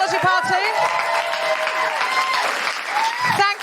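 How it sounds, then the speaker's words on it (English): A live podcast audience at the Soho Theatre fills the room with loud, sustained applause, and voices call out and cheer over the clapping. "big round of applause for Lauren and Tamzin from Where You At?"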